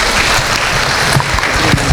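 A large audience at a college event claps steadily, a dense and loud wash of applause with no pauses across the whole short span.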